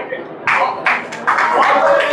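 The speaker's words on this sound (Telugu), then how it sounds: "గట్టిగా చప్పట్లు కొట్టండి" Applause from an audience at a Telugu community gathering in Australia, breaking out in several bursts of clapping that swell and continue to the end, with some voices mixed in.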